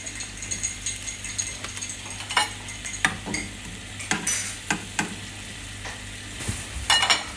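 Onions fry in a pan alongside hamburger patties seasoned with black pepper, giving a continuous close sizzle broken by repeated scraping and clanking stirs of a utensil against the pan, with no talk.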